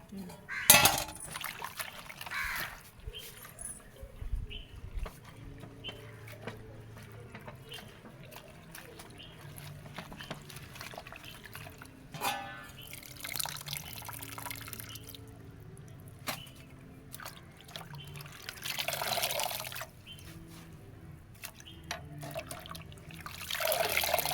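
Mint leaves are rinsed under a running kitchen tap, water splashing and pouring in uneven bursts at close range while someone talks over it.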